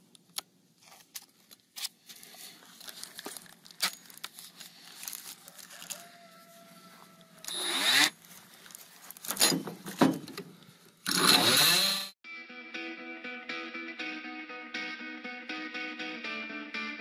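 A Hanida oscillating saw blade cutting into screws, quiet scratchy contact at first, then loud harsh grinding bursts, followed by a steady buzzing multi-tone whine of the tool running.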